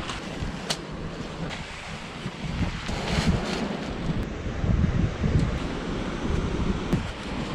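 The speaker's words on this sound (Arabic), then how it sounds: "واخا كاين شويه ديال الريح" Wind gusts steadily across an outdoor wilderness spot during a camping and hunting outing, a loud continuous roar with rumbling buffeting against the microphone.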